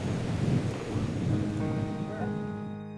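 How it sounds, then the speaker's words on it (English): Thunder rumbles under steady heavy rain during a storm in the Bolivian mountains near a zip line cable, a loud, continuous wash with deep rolling low end and a tonal swell toward the end. "We have to be really careful with a storm like this."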